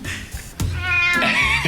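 A cat named Cricket meowing, a short rising meow preceded by a couple of small thumps, close and clear, with a second brief mew trailing off at the end.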